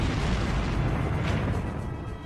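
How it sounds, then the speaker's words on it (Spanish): Mines exploding beneath the fortress walls of Kazan during a siege give a loud, sustained roaring blast, a dense rumble that fills the whole stretch and eases slightly toward the end. "La fuerza de la explosión paró la batalla en seco."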